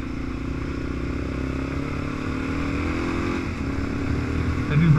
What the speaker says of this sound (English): Grab a gear here, Steve.